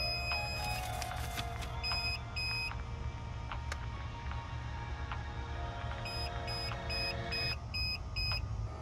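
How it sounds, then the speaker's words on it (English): Several short electronic beeps in clusters from a remote start module in a 2019-2021 Kia Forte GT, high-pitched and clear, over a steady low engine-like hum and background noise. "You're gonna hear a few beeps."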